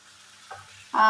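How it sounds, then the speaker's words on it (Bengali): Potatoes and okra frying in a pan: a quiet sizzle builds into a louder burst of frying and stirring near the end, with no voices. "এই আলু ভেন্ডি ভাজা হচ্ছে"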